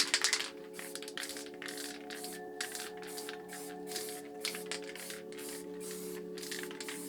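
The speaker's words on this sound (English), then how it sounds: "I'm just going to spray around each of the lids to give you an outline." Repeated short bursts of Clash spray paint hissing in a steady on-off rhythm, close and fairly loud, with a faint steady hum underneath and no voices.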